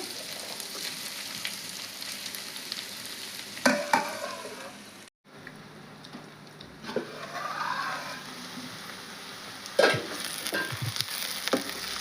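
Cabbage and chana dal curry cooks in oil, a soft steady sizzle with occasional stirring scrapes and clinks of a spoon against the pan.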